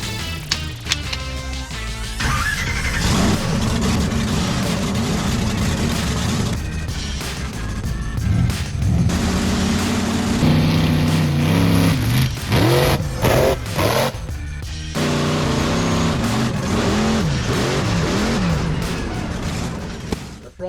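A mega truck's engine idles and revs in rough, uneven bursts on an off-road course, loud and close throughout, with a brief voice or two over the motor.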